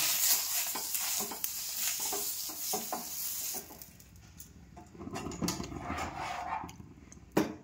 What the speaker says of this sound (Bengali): এবার এভাবে আমি ব্যাটারটা দিয়ে দিলাম।